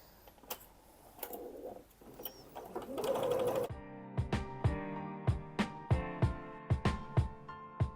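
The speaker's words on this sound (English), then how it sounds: "So we're just going to sew this with a normal 1 centimeter seam allowance." A sewing machine stitches a seam on bag fabric, starting with some handling rustle and a brief whir, then a steady run of sharp, evenly spaced mechanical clicks close by, with no talking.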